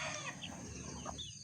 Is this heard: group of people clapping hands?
no